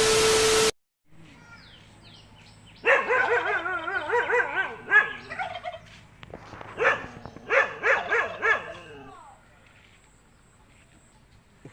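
A hungry dog near a village home barks and yips in a rapid, loud burst of several overlapping barks and whimpers, trailing off into quieter background noise with no speech.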